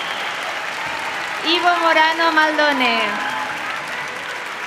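Applause from an audience at a university graduation ceremony runs as a steady background of clapping while a voice over a loudspeaker reads out a graduate's name above it.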